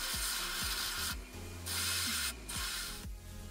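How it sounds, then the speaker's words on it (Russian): Edges of a metal outer tube being filed and deburred for a homemade fishing or beach umbrella ground anchor: steady close rasping strokes repeat in a rough rhythm, with a few brief pauses between passes and no talk. "Теперь немного обработаю наружную трубку, а именно выровняю края и уберу фаски"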